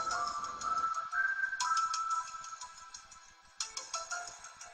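A mobile phone ringtone plays close and clear, a bright electronic melody that repeats in short phrases and restarts partway through, alone without any talking.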